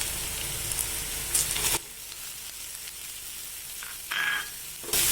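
Ingredients for a Malabar spinach curry fry in a pan with a steady, bright sizzle that drops suddenly to a quieter hiss, then flares again in short bursts, close up and without any speech.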